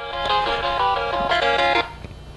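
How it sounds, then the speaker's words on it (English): A cell phone rings with an incoming call during a Samsung Stratosphere unboxing, a short, loud tonal ring pattern close by with a faint background hum. "I'm getting a phone call."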